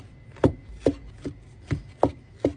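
A knife trims fat from a ribeye steak on a cutting board, producing six evenly spaced, close, crisp cutting strokes roughly every half second, with no talking.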